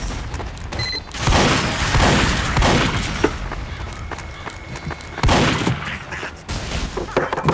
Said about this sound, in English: Oh, grenade! I saw that.